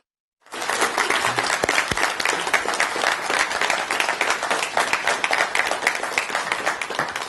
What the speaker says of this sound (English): longest applause for me, shortest applause for the DCs